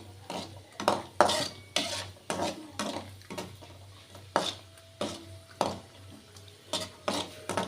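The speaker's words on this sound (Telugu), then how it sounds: "2 టేబుల్ స్పూన్ల నెయ్యి వేసుకొని అది వేడెక్కాక డ్రై ఫ్రూట్స్ ఉన్నాయి కదండి అవి అందులో వేసుకొని వేయించుకోవాలి." Dry fruits being fried in ghee in a kadai for carrot halwa, heard as a run of close, regular stirring scrapes and metallic spoon clinks against the pan, with a faint sizzle beneath.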